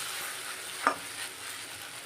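Ghee and oil sizzle quietly in a wok while sago pulao cooks, a soft, steady frying hiss with one brief stir or clink partway through.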